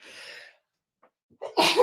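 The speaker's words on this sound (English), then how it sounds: "I'm going to sneeze in a second." A single sharp sneeze bursts out near the end after a brief breathy intake and a moment of quiet.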